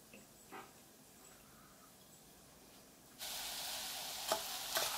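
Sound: sauteing pearl couscous in a pan

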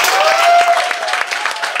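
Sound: audience applause

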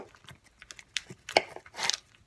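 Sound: knife cutting sausage into small pieces

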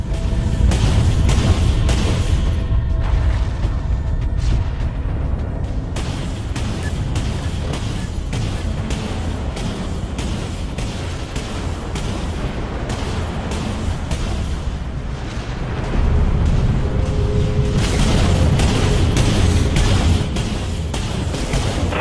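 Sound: missile and torpedo launches in video game Dreadnought

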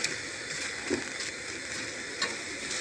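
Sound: mushrooms cooking in a pan

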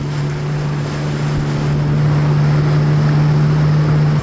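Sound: jet ski ride on waves in Miami

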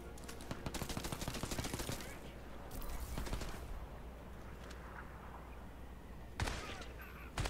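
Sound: gunfire from the video game Crysis 3

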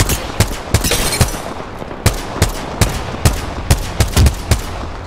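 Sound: gunfire in a video game

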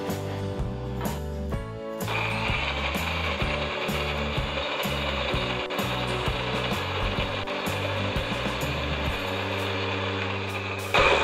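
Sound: blender grinding chilies and spices with water

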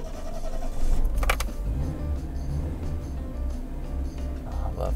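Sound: 1987 Yugo 55A car setting off for a drive

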